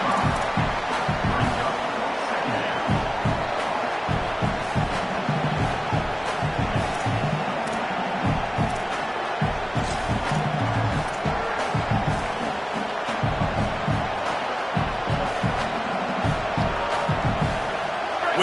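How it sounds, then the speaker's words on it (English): A football stadium crowd roars on a big play, a sustained dense wall of cheering and shouting with rhythmic surges, loud and continuous throughout. "We knew this crowd would make its presence felt, and they are doing so in a big spot."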